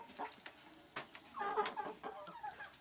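Chickens eating from a plate, making faint, close clucks and soft pecking taps in short irregular bursts.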